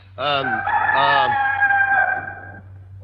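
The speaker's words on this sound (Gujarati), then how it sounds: "કુકડો બોલ્યો" A rooster crows loudly and close by, one long drawn-out call of about two and a half seconds with a rising start and a sustained tail, heard alone over a low steady hum.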